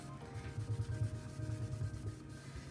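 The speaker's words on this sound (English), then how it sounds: "I want to scrub off any of those spots." Scrubbing on the painted face of a kitchen cabinet to lift greasy spots, a steady rhythmic rubbing with repeated strokes, close and fairly quiet with no talk.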